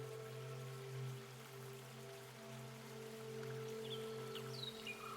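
A watery ambience from an Ableton FX rack runs as a soft, steady trickle and drizzle under sustained low drone tones, with a few faint chirps near the end and no talking.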